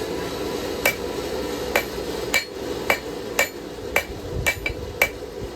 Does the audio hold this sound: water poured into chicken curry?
no